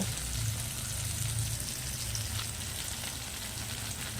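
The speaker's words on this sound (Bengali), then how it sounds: "এইবার আমি ভালো করে এটা নাড়াচাড়া করে নেব।" Spice paste with Kashmiri chili powder is stirred dry in a hot pan, giving a constant close sizzle and crackle with a low hum beneath, steady and unbroken.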